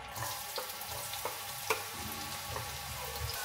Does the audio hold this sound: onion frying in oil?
yes